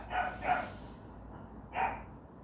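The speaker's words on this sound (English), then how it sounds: "The dogs are going." Dogs at a house bark at someone outside, three short barks in two quick bursts and then a third after a pause, muffled and a little distant, with no talk over them.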